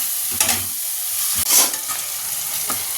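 Tomatoes frying in a pan, a close, bright, continuous sizzle with a few stirring scrapes and a short burst of louder spitting midway, no speech.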